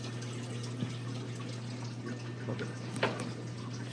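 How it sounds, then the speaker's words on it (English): Water poured into a houseplant grow bed in a biochar flood-and-drain system fed by worms and fish, a steady close trickle running for several seconds over a low constant hum. "I'm just going to pour it right in here."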